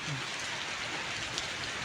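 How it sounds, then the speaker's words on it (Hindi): Steady rain falls over Solan, Himachal Pradesh, under overcast skies, a continuous dense hiss of drops hitting surfaces with no pause for the whole stretch. "आसमान से राहत की बूंदें बरसनी अब शुरू हो चुकी है।"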